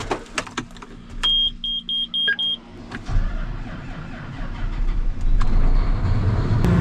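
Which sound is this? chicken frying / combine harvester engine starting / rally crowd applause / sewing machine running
combine harvester engine starting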